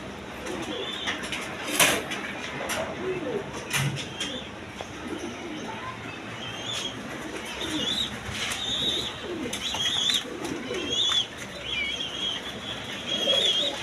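Satin pigeons of various colours coo softly in a loft, with repeated low calls, occasional wing flaps and clatter, and a faint voice now and then.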